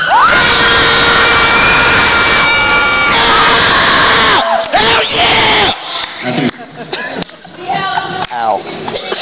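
A crowd at a keyboard cat fan art contest screams and cheers loudly and steadily for an entry, with high shrieks standing out, then breaks off into scattered, quieter voices and calls.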